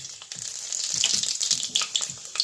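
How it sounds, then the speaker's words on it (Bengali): Panch phoron spices dropped into hot refined oil in a kadai, crackling and sizzling in a close, bright burst with scattered pops and spits over a few seconds. "তেলটা গরম হয়ে গেছে, তো দিয়ে দিব 5 ফোড়ন"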